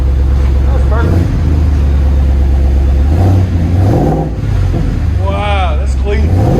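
A Ford F-350 pickup with a 7.3L gasser V8 sits revving through its aftermarket exhaust, a loud steady rumble swelling into several throttle blips, with a voice speaking briefly over the engine near the middle and end.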